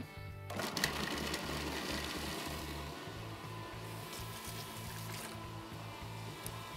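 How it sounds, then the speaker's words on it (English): A food processor blends rough-cut plantain into a paste with a steady, pulsing motor whir and a faint rubbing churn, close but fairly quiet. It runs continuously with no talking. "pop it into my trusty food processor and blend it into a paste"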